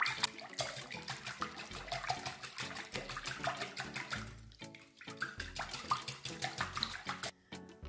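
Eggs, oil, milk and salt are beaten hard in a bowl, giving a fast, continuous run of close clattering strokes with brief pauses.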